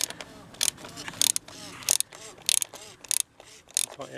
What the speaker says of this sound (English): Tighten it up with the 27mm socket.